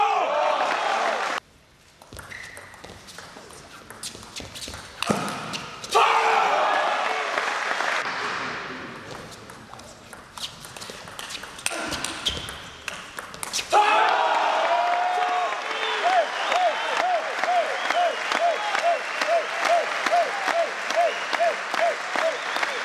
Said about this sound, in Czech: Diváci aplaudovali skandovaným potleskem a dostávali se do varu.